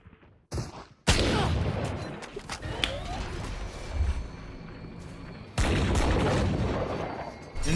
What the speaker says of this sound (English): Nade goes out.